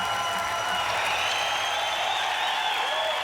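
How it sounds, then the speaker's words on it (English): A TV game show studio audience at Australian Gladiators in 1995 claps steadily throughout, a dense wash of applause with faint crowd noise underneath. "Let's have a round of applause for Steve, our winner."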